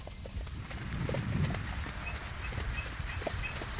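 A harness horse walks at a slow pace, its hooves clip-clopping in a soft, irregular rhythm under outdoor ambience, with faint bird chirps in the background.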